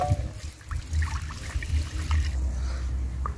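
Water pours and trickles into a saucepan for cooking matooke in a village kitchen, a steady continuous splashing stream running throughout.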